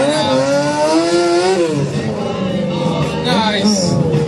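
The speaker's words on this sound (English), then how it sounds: "This guy has so much control on his motorcycle." A stunt motorcycle at an outdoor stunt show revs loudly and continuously, its engine pitch climbing, dipping and rising again in sweeping bursts, close and dominant throughout.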